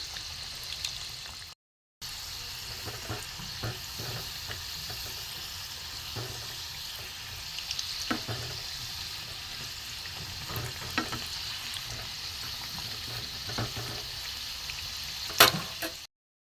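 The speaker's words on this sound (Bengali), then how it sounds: "ফুলেছে একটু লাল করে ভাজবো" Balushahi sweets deep frying in oil for a homemade festive batch, a steady bubbling sizzle with occasional crackles and a few clinks of a utensil, continuous after a brief gap near the start.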